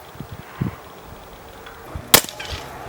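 A SilencerCo Maxim 9 suppressed pistol fires a few muffled pops, alternating standard velocity and subsonic rounds, with one sharper crack standing out near the end amid quiet outdoor background.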